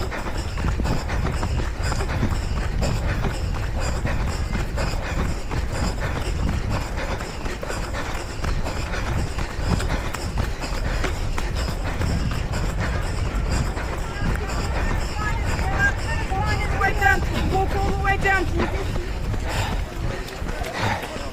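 Finish area of the Battersea parkrun: a dense patter of many runners' footsteps on the path with crowd chatter and voices throughout, busy and continuous.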